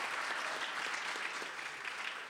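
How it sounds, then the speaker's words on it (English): A college audience applauding a faculty member, a dense steady wash of clapping from a large crowd, continuous and even throughout. "Yes, let's give Dave a round of applause."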